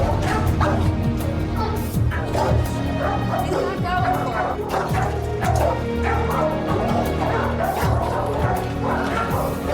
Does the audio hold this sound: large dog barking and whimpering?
yes